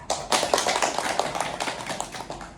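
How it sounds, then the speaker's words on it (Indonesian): An audience clapping together after a group clap chant in an Indonesian classroom-style session, a steady patter of many hands at moderate volume with no talk over it. "beri aplaus untuk kita"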